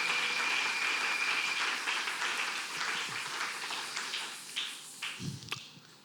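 Church congregation applauding for the Lord during a French and Lingala sermon: full, sustained clapping from many hands that gradually thins and fades out, ending with a few isolated claps and knocks.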